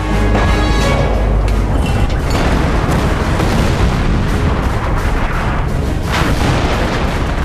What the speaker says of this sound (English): Even the mighty Jagdpanther is not immune to the artillery of the M7 Priest, firing off 105mm high-explosive shells